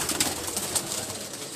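Pigeons on a rooftop coop give soft cooing calls mixed with faint rustling, fairly close and steady through a short stretch with no talking.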